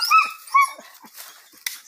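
Young hunting dogs bark and yip during an armadillo hunt, several sharp close barks in quick bursts followed by fainter whimpers and yelps, with no talking.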